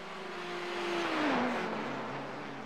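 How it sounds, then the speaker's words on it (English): A GTE race car at Monza passes by, its engine note rising to a peak then falling in pitch as it goes past, loud and steady over a rushing background. "Do love the sound of the GTE."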